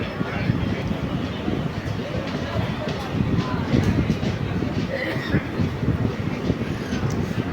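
The 16342 Guruvayur Intercity Express, travelling from Kollam toward Guruvayur, runs with a continuous heavy rumble and rattling wheel clatter heard from on board, with a faint murmur of people in the background.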